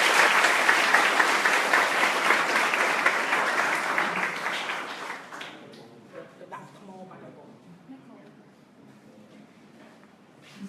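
An audience at a student academic leadership conference applauds a speaker with steady, dense clapping that fades out after about five seconds, followed by quieter room sounds and a voice starting to talk.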